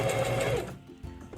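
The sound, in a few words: sewing machine stitching a heat pillow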